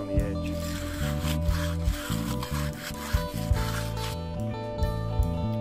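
A concrete edger rubs and scrapes along the edge of wet concrete, filling the edge with cream, giving steady rasping strokes over a low tonal background hum.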